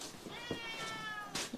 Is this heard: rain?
no